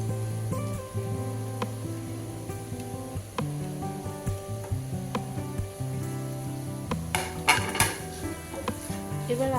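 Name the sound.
cheese and grated paneer sizzling in a frying pan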